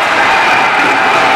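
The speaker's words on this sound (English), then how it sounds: "And the crowd loves it." Ice hockey crowd at a Thailand versus Hong Kong under-20 championship game cheering loudly right after a goal, a dense, sustained roar with clapping mixed in.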